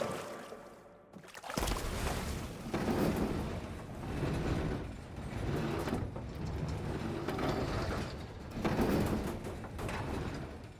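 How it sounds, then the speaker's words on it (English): A crank is turned on a mechanism among relic ruins in Horizon Forbidden West, producing a loud, grinding, churning mechanical sound in rolling swells after a brief quiet opening, with no talking. "let's give this crank a whirl"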